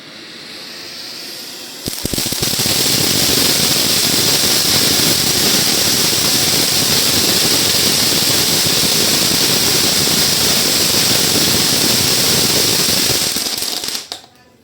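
A Pandian drum stick firecracker fountain is lit for Diwali, starting after a brief quiet with a loud, continuous crackling hiss and spray that holds steady for about twelve seconds, then cuts off abruptly.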